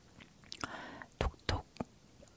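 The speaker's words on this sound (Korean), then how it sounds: "바삭바삭 과자 씹는 소리도 나면서" Crunchy snack chewed close to the microphone in ASMR style: several crisp, crackling bites spaced irregularly, fairly quiet, with no speech.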